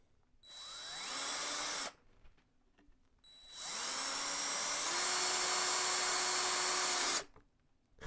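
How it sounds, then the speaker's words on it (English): A drill bores into the fuselage of a Carl Goldberg Ultimate 10-300 model biplane, with a short rising whine followed by a pause and then a longer sustained high-pitched run that stops abruptly. "Same thing, just make sure your drill's centered."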